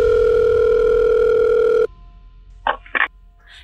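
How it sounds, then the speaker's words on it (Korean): An incoming call rings on a telephone: a loud steady electronic tone that stops abruptly, followed by two short separate bursts of tone in quiet, close and clear. "출근하자마자 노영민 대통령 비서실장이 전화를 했습니다."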